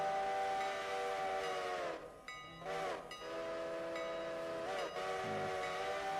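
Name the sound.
Great Northern train whistle in a video game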